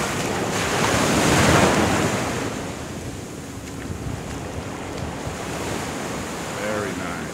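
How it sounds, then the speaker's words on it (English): Ocean waves wash and hiss steadily along the edge of a beach, heard up close as someone walks through the shallow water, with wind buffeting the microphone and a faint voice near the end. "But I'm walking right in the water on the edge of the ocean."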